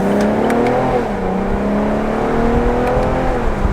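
A 2020 Chevrolet Camaro 1LT pulls hard under acceleration from inside the cabin, its engine note rising steadily and loud with a smooth, continuous drone.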